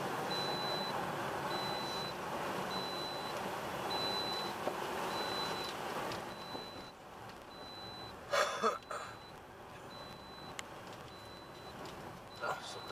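A car's warning chime beeps in a steady repeating pattern of short, regular tones over road and cabin noise during a night drive on the Moscow–Nalchik route, with some voices and brief bumps partway through.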